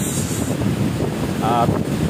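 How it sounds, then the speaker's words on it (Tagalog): Steady, heavy typhoon wind roars and buffets the microphone throughout, with a brief faint tonal whine partway through, on Pitogo island, Bohol, during Typhoon Odette (Signal No. 3). "malakas na yung hangin sa mga oras na to"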